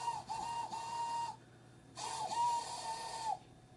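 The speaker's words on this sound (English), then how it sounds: "Everyone knew that whistle," A steam locomotive whistle gives two long, steady blasts separated by a short pause, loud and clear in an animated children's railway story.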